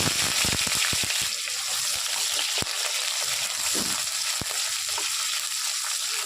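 Oil frying and sizzling steadily in a kadai for a bottle gourd dried fish curry, a constant crackling hiss with scattered sharp pops and a few stirring clicks, close up.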